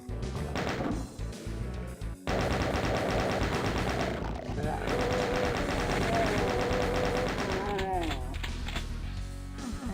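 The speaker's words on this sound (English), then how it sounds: "the chain gunners keep chipping away at me" Chaingunner enemies in a Doom-style shooter spray rapid, sustained chaingun fire, the bursts dense and loud and layered over driving game music for nearly the whole stretch.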